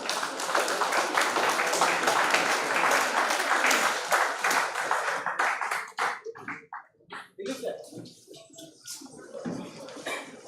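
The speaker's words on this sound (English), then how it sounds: "Please give a huge round of applause and welcome him." Audience at a university project expo valedictory programme applauding to welcome the chief guest, dense clapping that thins after about six seconds into scattered claps mixed with voices and room noise.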